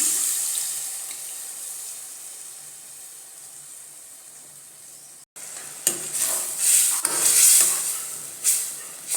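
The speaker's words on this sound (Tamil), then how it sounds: "அந்த தண்ணி இதில் சேர்த்துக்கலாம்" Water runs and splashes into a cooking pot, a steady pour with some sizzling and stirring noises, then a brief cut and louder bubbling splashes.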